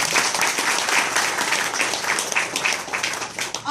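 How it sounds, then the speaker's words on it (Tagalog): An audience applauds loudly and continuously, a dense close wash of many hands clapping with no pauses. "Salamat daw sa palakpak."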